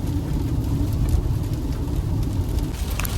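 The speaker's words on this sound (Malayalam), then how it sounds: "നല്ല മഴയാണ്" Heavy rain drums on a moving car on a road near the Kazhakoottam flyover, a steady dense wash over the low rumble of the engine and tyres, continuous and fairly loud with no talking.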